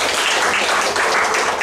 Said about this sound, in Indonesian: ya tepuk tangan dong buat mereka